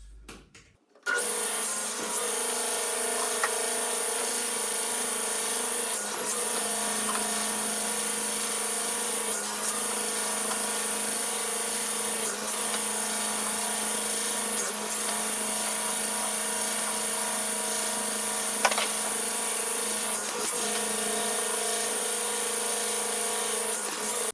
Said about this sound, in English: we'll go ahead and cut the 2x4s to 19 inches